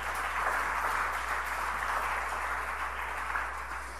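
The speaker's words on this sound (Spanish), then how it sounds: "Dale el aplauso al Señor." A church congregation gives a steady wash of applause to the Lord, fairly distant and even throughout, with a low constant hum beneath it.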